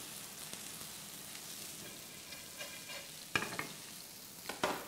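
Leeks and garlic fry in oil with a quiet, even sizzle, broken by a couple of louder scraping stirs toward the end.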